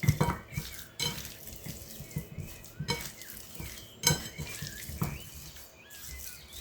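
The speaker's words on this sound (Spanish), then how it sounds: "Y ahora lo voy a mezclar todo muy bien para que se impregne de la sal y la pimienta." Seasoned chicken mixed by hand with salt and pepper in a bowl, giving soft wet squelching and rustling with repeated light knocks against the dish, close and fairly quiet.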